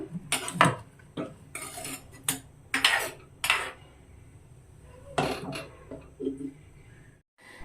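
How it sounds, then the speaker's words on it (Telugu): A spoon stirring egg and drumstick pulusu curry in a metal pot, then a lid set on top: a series of sharp metallic scrapes and clanks in bursts, close and clear, with quiet gaps between and a final hush. "ఒకసారి కలుపుకొని మనం మూత పెట్టేద్దాం."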